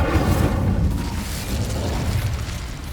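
Incendio fire spell cast in the Hogwarts Legacy video game, a loud sustained burst of roaring, explosive fire with a rumbling low end that holds steady for several seconds.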